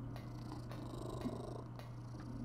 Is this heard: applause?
no